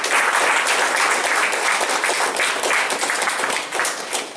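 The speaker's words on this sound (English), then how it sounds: "Round of applause, please." An audience at a Scrum meetup gives a round of applause: dense, steady clapping from many hands that holds for several seconds and fades slightly near the end.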